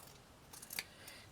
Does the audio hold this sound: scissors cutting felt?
yes